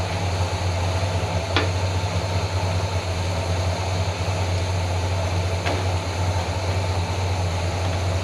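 A Cadillac 472 V8 idles steadily while warming up, a low continuous hum with a constant level and a couple of faint high clicks.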